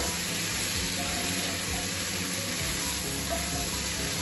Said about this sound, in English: Tossing them all around to make sure all my spices are mixed well